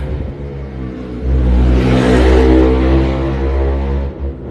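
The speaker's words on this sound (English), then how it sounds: "somebody drove by with a very loud motorcycle" A very loud motorcycle passes on a nearby road, its engine rumble swelling over a couple of seconds to a peak and then fading away, with no talking.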